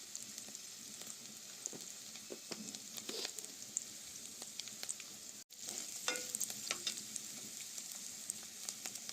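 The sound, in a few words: frying with turmeric in a pan, for potato fry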